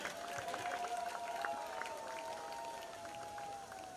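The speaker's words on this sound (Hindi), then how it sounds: "A very big round of applause for all of them" A crowd claps for guests on stage at a beach clean-up event, with steady, moderately distant applause and cheering and a faint sustained tone running underneath.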